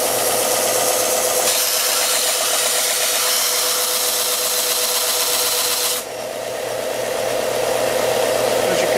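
Loud, steady abrasive whine of a belt grinder working a blade on a coarse belt before a switch to 120 grit, grinding continuously close up and easing slightly partway through.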